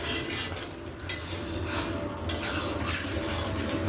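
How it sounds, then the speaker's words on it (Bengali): Mutton with garam masala being stirred in a pan: a continuous sizzle under repeated scraping strokes of a spoon against the metal, close and fairly loud, with no talking. "মশলাটা দিয়ে ভালো করে কষিয়ে নেবেন।"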